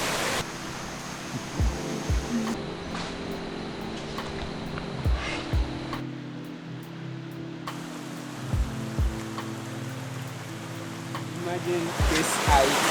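Wli Waterfalls in the Volta Region roaring as a steady broadband rush of falling water, with occasional low thumps and bumps from handling nearby and no clear talk.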